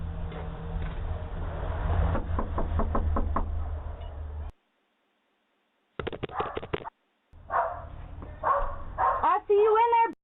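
Someone bangs and kicks on a house door during a custody dispute, producing a rapid series of loud knocks followed by more pounding, broken by silent gaps and mixed with shouting voices.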